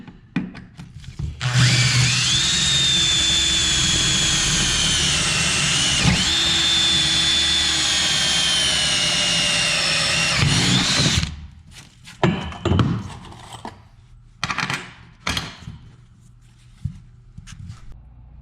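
A power drill whines loudly and steadily for about ten seconds while drilling bolt holes for an E-track install, then a few short bursts and clunks follow with quieter handling noise.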